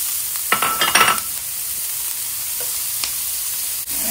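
Onion and garlic sizzle in hot oil in a pan, with a few clattering stirs near the start and a steady frying hiss throughout, close up and with no voices.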